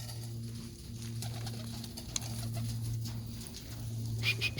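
Racing pigeons arriving at the loft after a 40-mile toss coo in low, repeated droning phrases close by, with wing flutters and light scuffling sounds over faint background noise.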